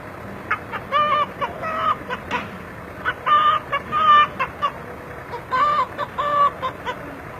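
A voice mimics a rooster crowing, producing several repeated, strained crow-like calls in bursts across several seconds, fairly loud and close with no other talk.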